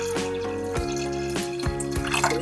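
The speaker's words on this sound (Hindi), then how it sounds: "मैं आपको दिखाती हूँ कितना पानी डालना है।" Water is poured into a pressure cooker holding peas and potato, with a steady trickle broken by several sharp splashes and drips, close and fairly quiet, with no talk.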